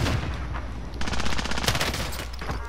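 Rapid automatic gunfire in Call of Duty: Warzone, a dense burst of repeated shots sitting close and loud over a steady low game rumble, with no talking.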